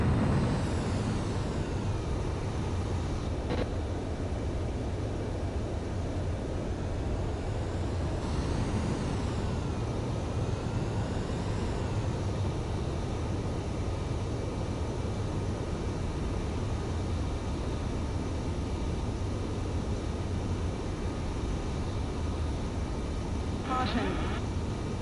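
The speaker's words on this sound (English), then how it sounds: "The base commander's transport craft has taken off." A transport aircraft in Ace Combat 7 drones steadily after takeoff, a continuous broad engine roar with faint tonal whines passing over it.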